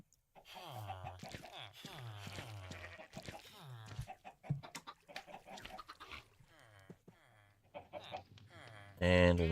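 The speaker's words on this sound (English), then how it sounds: "Getting too many chickens, so let's just throw some of these into the void." Minecraft Skyblock chickens cluck in short, repeated bursts, close and clear, with a louder, noisier sound at the very end.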